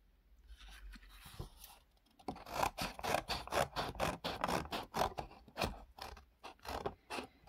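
Scissors cut around hand outlines on paper for a children's craft, a close series of quick rhythmic snips and rasps that starts after a quiet opening and continues alone.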